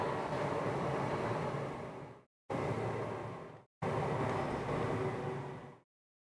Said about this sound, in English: Sorry, that was the train.